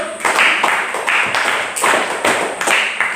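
Schoolchildren in a classroom clap hands in a patterned, rhythmic group clap, sharp bursts repeating in quick sets close by.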